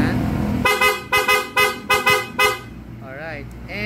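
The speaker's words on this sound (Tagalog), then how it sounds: "yun ang mga horn. Stock horn." A stock car horn gives five short honks in a quick, slightly uneven sequence, loud and close, then drops back to a quiet background hum.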